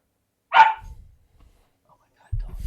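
A dog gives one sharp, loud bark close by, followed by quiet, then a low rumbling sound at the end.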